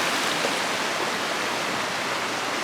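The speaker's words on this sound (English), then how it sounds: "Look at that water. Some serious flow in there." Fast-flowing floodwater rushes through a flooded campsite as a swollen stream, a loud, steady broadband roar filling the whole clip without pause and with no voices.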